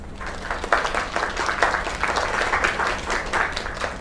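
A crowd applauds in the video game Lake: steady, dense clapping from many hands, moderately loud, continuing unbroken throughout.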